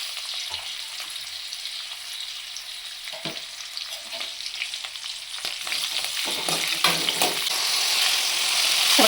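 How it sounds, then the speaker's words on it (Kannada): Curry leaves tempered in hot oil for a bean palya sizzle and crackle, the frying starting fairly quiet, then building into loud, dense spattering with sharp pops as the pan heats. "ಎಣ್ಣೆ ಕಾದಿರುತ್ತಲ್ವ, ಮುಖಕ್ಕೆ ಸಿಡ್ಬಿಡುತ್ತೆ. ಹುಷಾರಾಗಿ ಹಾಕ್ಕೋಬೇಕು. ಜೊತೆಗೇ ಕರಿಬೇವು ಹಾಕ್ಕೊಳ್ಬೇಕು."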